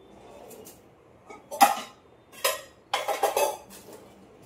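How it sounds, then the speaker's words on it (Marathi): A metal kadhai, an Indian wok, is handled in a home kitchen, giving several close metallic clanks and scrapes in short bursts against quiet surroundings. "आणि इकडे मी कढई घेणार आहे."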